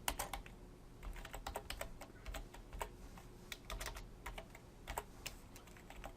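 Code being typed on a computer keyboard, a quiet, close run of rapid key clicks in uneven bursts with short pauses, steady throughout and alone without voices.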